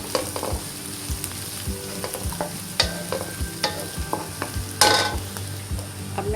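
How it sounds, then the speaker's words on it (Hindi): Crushed garlic and ginger sauté in a hot pan for spicy Kung Pao chicken, a steady sizzle broken by repeated clinks and scrapes of a spoon stirring against the pan, close and fairly loud with no talking. "इसको थोड़ी देर हम इसको सौते करेंगे कि गार्लिक और जिंजर की खुशबू आने लगे।"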